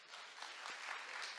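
Audience applause at a keynote speech, a brief, faint and even patter of many hands clapping, with no voices over it.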